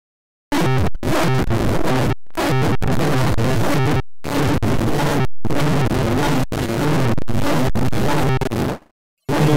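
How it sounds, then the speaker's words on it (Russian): A chiptune synthesizer on a second preset spits out loud, harsh glitchy noise bursts. They come in choppy blocks separated by short silences, then cut off near the end. "Проверяем-ка, как звучит второй синтезатор."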